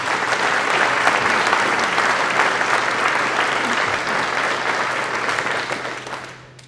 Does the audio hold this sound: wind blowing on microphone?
no